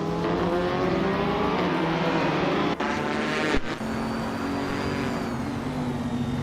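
Race car engines in a racing video game, led by a 2015 Chevrolet Corvette C7R at Circuito Sagalices, drone loudly together at the start as the pack revs and accelerates, with a couple of sharp shift breaks.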